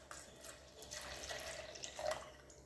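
Coconut milk poured from a cup into a rice flour and jaggery batter for Kerala kinnathappam, a quiet steady liquid pour and splash, close and faint, with no talk.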